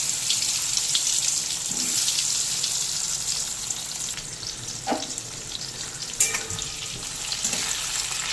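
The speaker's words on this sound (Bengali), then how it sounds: "এবার নুন হলুদ মাখিয়ে রাখা আলুগুলোকে দিয়ে ভেজে নেব।" Potatoes rubbed with salt and turmeric fry in mustard oil in a wok, a loud, steady sizzle with a few scraping stirs and light clinks close by.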